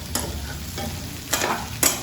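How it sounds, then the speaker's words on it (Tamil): Onion, broccoli and mushrooms frying in a pan while being stirred for a creamy white sauce pasta, with a low steady sizzle and a few louder scraping stirs close by, no talking. "இப்போ நம்ம எடுத்து வச்சுருக்க ப்ரக்கோலி போட்டுடலாம்."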